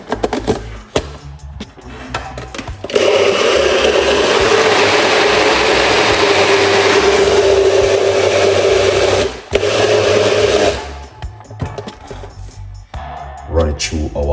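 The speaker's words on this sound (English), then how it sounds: "Now let's blend." A kitchen blender whirs through an energy drink for about six seconds, loud and steady. It pauses briefly, then runs again more softly, with handling noise before and after.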